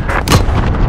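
Cluster strike blasts in Call of Duty: Modern Warfare hit in quick succession, a loud, close string of booming explosions with heavy rumbling low end, rapid and overlapping.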